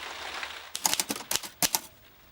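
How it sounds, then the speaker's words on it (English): A typewriter clatters as a novel is typed out, first near-silent, then a quick irregular run of sharp key strikes with a final clack, close and alone. "I am just on the grisly job of typing out my novel."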